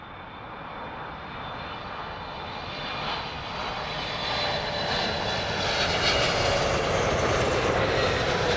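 A Thai Airways Boeing 777 jet on landing approach to runway 27 left at London Heathrow, its engine roar steady and loud, swelling gradually across the whole stretch with no talk over it.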